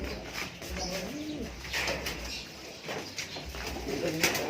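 Birds coo and call in soft, repeated phrases, dove-like and fairly close, over a steady background hum with faint rustling.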